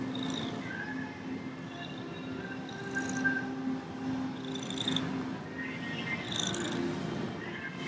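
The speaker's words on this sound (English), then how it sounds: "Can you hear the purring?" A steady, close cat purr rumbles continuously throughout, soft and even, with faint higher tones drifting over it.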